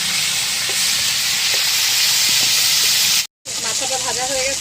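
Hilsa fish heads coated in salt and turmeric fry in hot oil, giving a steady loud sizzle and hiss throughout, broken by a brief gap, with faint clinks of stirring.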